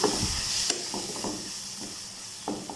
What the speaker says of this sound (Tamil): மசாலா எல்லாம் சேர்த்து நல்லா மிக்ஸ் பண்ணியாச்சு